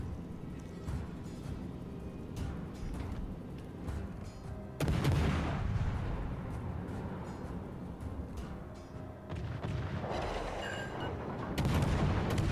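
Warship guns in World of Warships Legends firing amid naval battle noise, with heavy booming salvos breaking over a constant rumbling background, loud and close.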